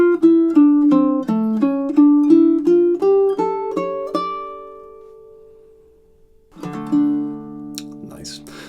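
Baritone ukulele playing a four-bar melodic riff of clear plucked notes mixed with percussive strums, close and alone, ending on a held chord before a final strummed chord rings out.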